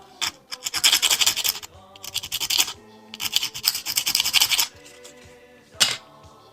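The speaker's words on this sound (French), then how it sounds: "Un petit coup de lime, histoire de faire ça propre." A small model part being cleaned up with a hand file, several bursts of close, crisp rasping strokes in quick succession, separated by short pauses, with one final brief stroke and no speech.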